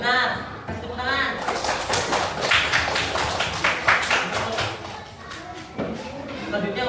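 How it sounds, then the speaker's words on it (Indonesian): Children in a classroom clap their hands together, a loud, rapid, uneven patter of many claps lasting several seconds, with voices of children and a teacher mixed in. "Kasih tepuk tangan."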